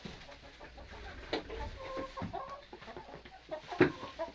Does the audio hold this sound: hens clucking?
yes